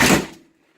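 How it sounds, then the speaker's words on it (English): The manual door of a 1999 Blue Bird Freightliner FS65 bus swings open with a single brief, close clunk that fades out quickly into quiet. "see, it's got a manual door"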